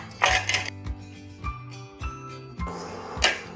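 Metal couscous steamer pot handled in a kitchen while making tabbouleh, giving bright clinks and jangling knocks in a few bursts, with low thuds between them.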